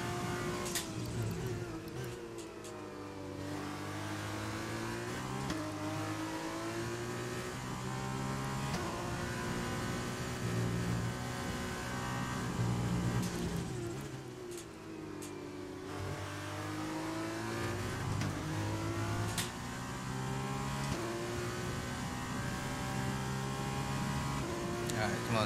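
A Formula 2 race car engine in F1 2020 at Bahrain drives an in-lap, repeatedly revving up through the gears and dropping off on downshifts in a steady, moderately loud loop.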